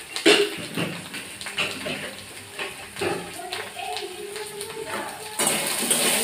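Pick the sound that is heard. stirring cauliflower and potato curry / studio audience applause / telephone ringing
stirring cauliflower and potato curry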